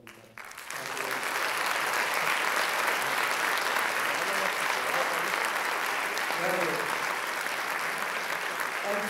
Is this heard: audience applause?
yes